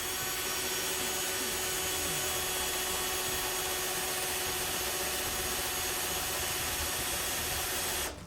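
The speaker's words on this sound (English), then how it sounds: "I'm barely putting any pressure on this drill bit." Steady whirring of a power drill running continuously at constant speed, close up, with a faint grinding texture and no talking.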